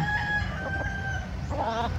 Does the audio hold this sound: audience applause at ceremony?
no